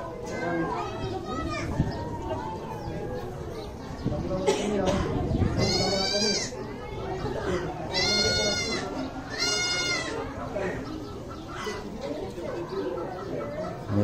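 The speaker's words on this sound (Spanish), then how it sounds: "un chivito culo cagado también" A young goat bleats several times in quavering cries at a farm alongside a pony-sized donkey, while children play and talk loudly nearby throughout.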